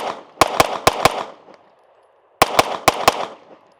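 Jacob Grey Hex pistol firing two quick strings of four shots each, sharp and close, with a short pause between the bursts.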